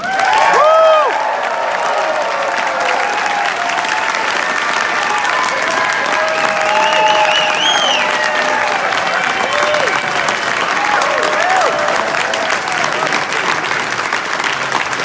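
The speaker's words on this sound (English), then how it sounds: "Let's give him a big Iowa welcome, Congressman Mark Pocan!" A large crowd at a political rally in Iowa claps and cheers steadily for the whole stretch, with whoops and shouts rising above the dense applause.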